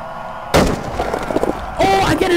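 A sniper gunshot in a video game, one sharp loud crack followed by a rumbling tail and a second burst of game noise, close and prominent with a voice faintly underneath.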